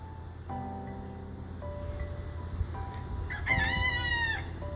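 A small rooster, about 11 years old, crows once, a strained rising call close by, following a few steady tonal hums in a quiet outdoor farm setting.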